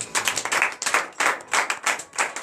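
A church congregation clapping in praise during a morning prayer service, with rhythmic bursts of many hands landing roughly together in repeated groups, close and lively.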